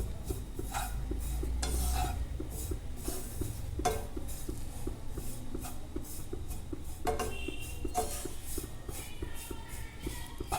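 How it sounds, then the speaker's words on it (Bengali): Bread is stirred and fried in a pan over a medium-to-low flame, giving a soft steady sizzle with intermittent scraping and clinking of a utensil against the pan, close and fairly quiet with no speech. "মিডিয়াম টু লো ফ্লেমে এটা ভালো করে নাড়াচাড়া করে ভেজে নিতে হবে"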